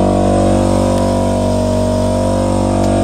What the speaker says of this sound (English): when I turn the compressor on,